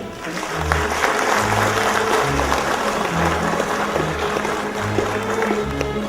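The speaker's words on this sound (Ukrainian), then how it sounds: "Дружно оплесками підтримуємо." Applause from a crowd at a water utility's 60th anniversary celebration fills the clip, steady clapping under a low rhythmic musical backing, with no clear speech.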